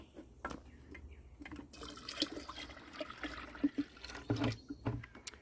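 Liquid splashes and trickles at low level as a mixture of water and blackstrap molasses is poured out, with soft irregular gurgles and drips that are close but faint.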